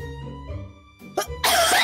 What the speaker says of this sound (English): I like how you put the mic away from your face and then decided to cough into it anyway.